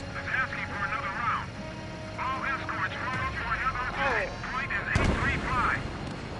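A special weapon firing in the jet combat game Ace Combat 7, with a sharp booming blast partway through. Radio-style voices talk continuously over engine rumble.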